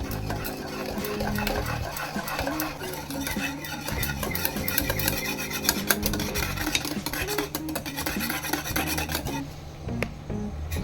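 Milk powder is mixed into milk with continuous scraping and stirring against the vessel, dense and busy throughout with small clinks. The sound is close and moderately loud and eases slightly at the end, with no voices.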